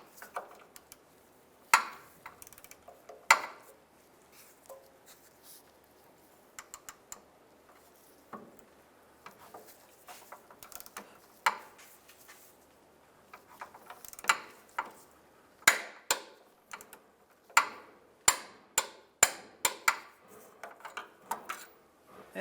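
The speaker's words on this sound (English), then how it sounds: "we're going to torque down our front motor mount bolt to 47 foot-pounds" Torque wrench tightening the front motor mount bolt on a 2003-2011 Honda Element, a scattered series of sharp mechanical clicks and ticks, sparse at first and then coming in quicker bursts near the end, close and fairly quiet.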